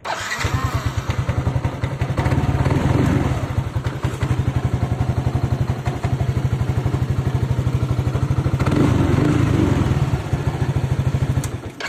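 A motorcycle engine starts and runs after a fuel pump repair, idling with a steady, rapid putter that is loud and close, swells briefly twice, and plays alone without talk.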